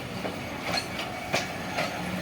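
A train crossing an old rail bridge where doubling work is under way, its wheels beating a rhythmic clickety-clack over a steady rumble, heard from fairly close with no talk.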